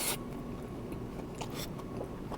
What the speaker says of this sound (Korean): 차돌박이하고 가지하고 같이 딱 씹으면요,